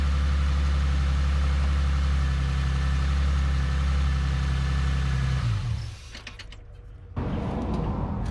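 A car engine idles steadily right after an oil change, a loud, even low hum that cuts off abruptly near the end, leaving brief quiet before a fainter mechanical noise returns.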